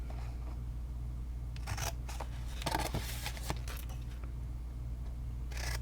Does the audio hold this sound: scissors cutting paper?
yes